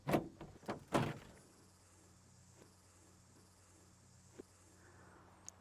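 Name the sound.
engine cover of 1965 GMC Handi-Van being closed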